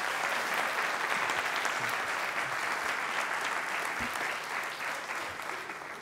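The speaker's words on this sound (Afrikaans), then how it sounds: "Kom ons gee vir hulle 'n lekker hande klap" A congregation at a Christmas carol service claps warmly, a steady, even wash of many hands sustained for six seconds at moderate volume in a large room.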